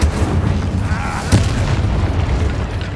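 Incendio fire spell cast in Hogwarts Legacy, a single sharp burst near the middle over a dense, steady rumble of combat noise.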